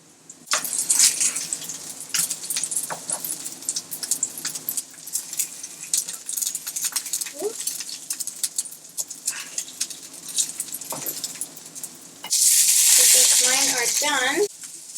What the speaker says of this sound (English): Hear that nice little sizzle